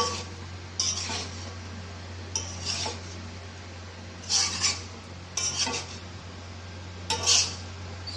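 Chicken khichdi stirred in a metal pot, with several scraping, clinking sweeps of a spoon against the pot spaced a second or two apart over a low steady hum, close and moderately quiet.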